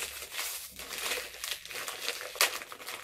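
Plastic wrapping crinkles and crackles up close in a series of irregular rustling bursts, with one sharper crackle near the end.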